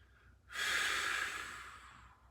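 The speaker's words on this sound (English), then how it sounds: "take a long deep breath" A long deep breath taken during a general conditioning exercise session, one sustained close airy inhale-exhale lasting about a second and a half, alone without talk.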